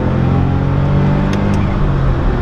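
A Smart Roadster's small engine revs hard as the car accelerates, a loud, steady drone that holds close and continuous throughout.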